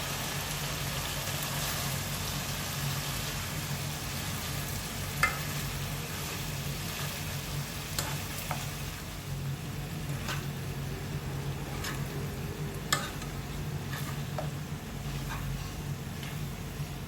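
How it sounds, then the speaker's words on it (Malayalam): Pork and onions being stirred and fried in a pan for Angamaly-style pork roast, giving a steady, even sizzle throughout with a few faint scraping clicks of the spoon against the pan. "അതിന് ശേഷം നമ്മളിത് നന്നായിട്ടൊന്ന് മിക്സ് ചെയ്യാണ്."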